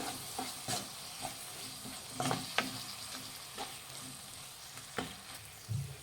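Chili, garam masala and coriander powder stirred into frying tomato for egg kurma, a quiet low sizzle broken by light spoon taps and scrapes at irregular intervals, fairly faint and close; no speech.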